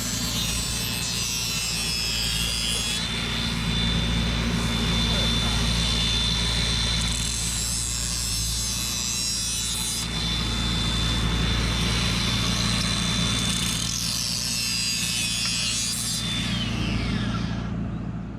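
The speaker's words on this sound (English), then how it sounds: "I got some burr built up on my bar, so I'm gonna grind them off." A grinder works burrs off a chainsaw bar in the woods, a steady loud continuous grinding hum with a high whine that rises and drops in a few long passes, running alone throughout.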